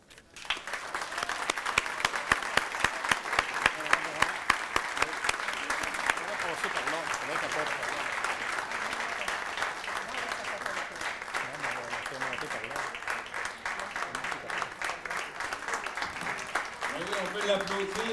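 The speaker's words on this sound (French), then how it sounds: "On peut l'applaudir." Sustained audience applause honours an award recipient at a hospital foundation anniversary event, with dense, even clapping running the whole time and voices faintly underneath.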